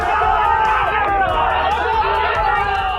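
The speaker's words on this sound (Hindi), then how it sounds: "गुस्साई भीड़ विधायक की गाड़ी को घेर कर नारेबाजी करने लगी।" An angry crowd surrounds a BJP MLA's car and shouts slogans. Loud, dense hubbub of many voices shouting and chattering at once, continuous and close, with no pause.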